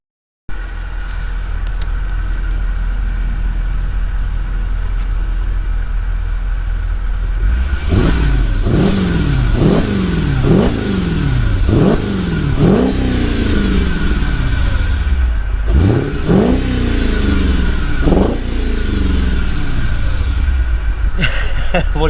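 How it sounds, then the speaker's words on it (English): A 2008 Mercedes CLK engine idles roughly with a misfire, settling into a steady running drone before a run of sharp, repeated revs rising and falling, loud and close throughout. "it's misfiring right now. I can hear it's misfiring."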